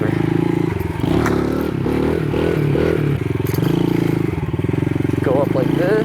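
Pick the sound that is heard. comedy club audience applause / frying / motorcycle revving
motorcycle revving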